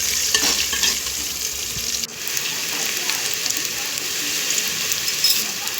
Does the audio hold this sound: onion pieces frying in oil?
yes